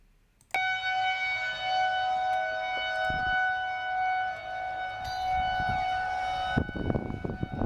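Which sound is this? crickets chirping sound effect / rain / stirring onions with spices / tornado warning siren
tornado warning siren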